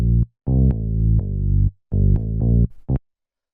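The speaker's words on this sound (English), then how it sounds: "So this is the bass line to the track." A disco tech house bass line plays alone, with thick, slightly distorted sustained synth notes in a syncopated pattern, loud and upfront, with short gaps and a few quick staccato notes near the end.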